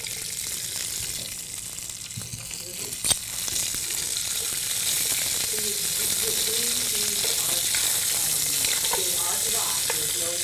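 Green beans hit hot oil and bacon fat in a pan, a steady loud sizzle with a brief clatter as they drop in, and a voice speaking under the frying.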